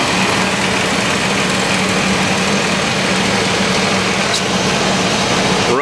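Steady idle of a 1998 GMC Sierra C1500 pickup's 4.3 liter engine, loud and close, with its air conditioning compressor cycling on and off under a constant engine hum, no speech.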